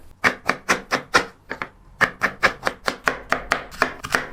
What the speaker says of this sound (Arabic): هلا هيك صار وقت التقطيع، رح نقطع هيك بهذا الشكل